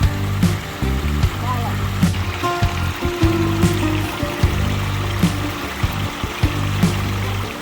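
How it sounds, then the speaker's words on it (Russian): Fresh drinking water running straight down from the mountains in Crete in winter, a steady trickling flow close by with faint chatter and a rhythmic tapping layered over it. "Видите, прямо с гор drinking water."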